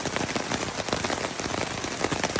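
Steady rain patters densely on a tent along the Appalachian Trail at night, a close, continuous hiss of drops with scattered sharper hits; no thunder stands out.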